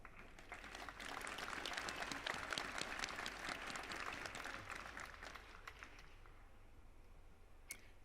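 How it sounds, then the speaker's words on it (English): Audience applause at a high school graduation ceremony, a dense wash of many hands clapping that swells and holds for several seconds, then thins out and fades toward the end. "Please help us in welcoming all of our guests by way of applause."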